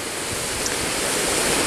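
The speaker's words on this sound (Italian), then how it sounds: "Siamo fermati un attimo a prendere l'acqua a una fontanella." Water pours steadily and close by from a public drinking fountain outdoors, making an even, hissing splash with no voices over it.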